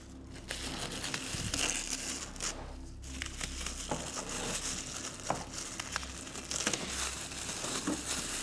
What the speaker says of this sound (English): I'll just peel this plastic off and see what we have